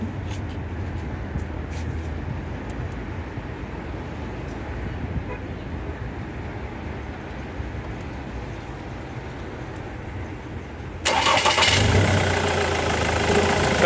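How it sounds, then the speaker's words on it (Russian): A car engine fitted with Delphi injectors idles with a low, steady, slightly uneven rumble, then surges noticeably louder and brighter near the end as it revs or restarts. "Как видите, движок работает."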